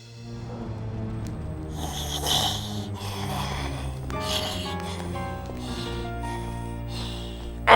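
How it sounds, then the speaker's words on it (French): Snoring from a sleeping cartoon mouse guard, steady and fairly loud, with rhythmic rasping breaths over a music bed, and a sharp burst right at the end. "tu ronfles tellement fort que j'aurais du mal à m'endormir"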